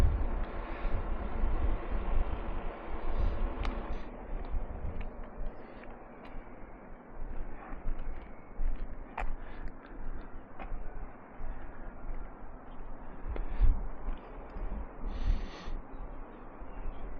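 Old diesel car rumbling past on a Spanish country road, a deep, rough, throbbing engine roar like a Sherman tank that swells and fades, with wind buffeting the microphone and no talk.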